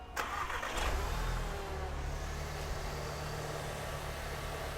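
A VW Golf R fitted with an aftermarket intake cranks and fires up with a quick starter whine and a loud catch, then settles into a steady, deep idle rumble, close by with no talk.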